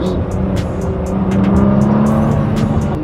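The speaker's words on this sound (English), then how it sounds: "I don't know if there's another V6 that makes the sound." V6 sports car engine, compared with an NSX, giving a loud, steady close drone with a sustained tonal note, while light rattling and rock chips tick and patter over it.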